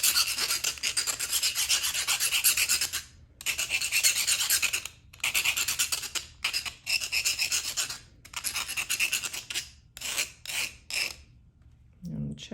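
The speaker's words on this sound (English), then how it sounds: "I'm just gonna keep moving the burnisher around as I'm sanding this down." A metal burnisher being dressed by hand on a file: close, rhythmic rasping strokes come in bursts of a second or two, separated by short pauses.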